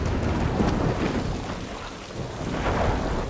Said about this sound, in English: This raging thunderstorm.